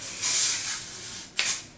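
Hairspray hisses from a can onto styled hair in two close bursts, a longer spray followed by a short second puff.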